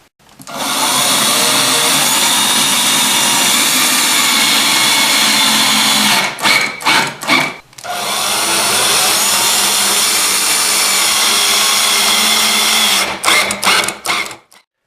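A power drill drives screws into cement board in two long, loud, steady whirring runs, each ending in a few short stuttering bursts as the screws seat, with a brief pause between runs.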